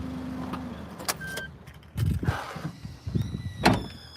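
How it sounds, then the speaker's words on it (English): A noisy car in Japan is switched off, with clicks, a brief squeal and keys jangling in bursts close by as the engine goes quiet. "Let's turn off the car."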